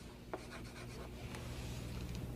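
Someone draws houses on a board in quick, scratchy strokes with a few sharper taps, quiet and close with no talking.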